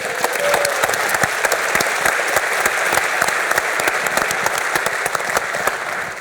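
A crowd at EVE Fanfest 2016 claps for the cosplay honorable mentions, a dense, sustained round of applause with sharp individual claps standing out nearby.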